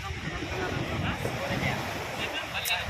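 Sea surf washes against the shore at Diu, a broad steady roar of breaking water mixed with gusty wind buffeting the microphone, with people chatting faintly in the background.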